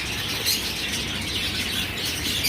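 A dense, steady chorus of pet birds chirps and twitters without pause inside a pet shop in Changoli that also keeps chickens and pigeons, close and fairly loud throughout.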